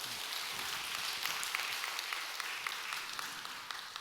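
A church congregation applauding together after a sermon testimony, a dense, fairly faint wash of many hands clapping that stays even throughout, heard from some distance.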